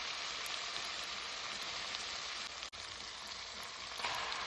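Seasoning frying in rendered pork fat for ackee and corned pork, a steady, close crackling sizzle that carries on evenly throughout with a brief dip partway.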